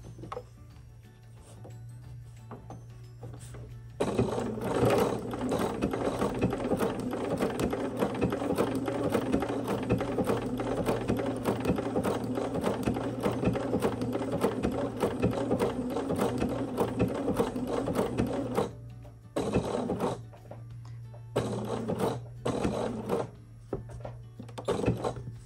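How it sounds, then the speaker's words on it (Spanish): Sewing machine stitching fabric slowly for a Santa Claus sack, a steady close mechanical whirr with ticking needle strokes, paused briefly and restarted in short bursts near the end, heard alone. "nos podemos ayudar de la rueda de la máquina para ponerla ya en su posición y ahora vamos muy despacio cosiendo"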